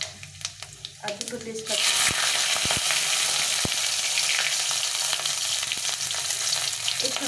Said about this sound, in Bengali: একটা শুকনো লঙ্কা ফাটিয়ে দিলাম। এই 1/2 চামচ মতো পাঁচফোড়ন